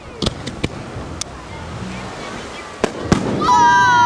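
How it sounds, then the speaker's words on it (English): Fourth of July fireworks in Cape Charles bursting outdoors at night, several sharp distant bangs and crackles spread over a few seconds, ending in a rising whistling screech, with faint background noise. "Let's see if you guys will light up for one of these fireworks."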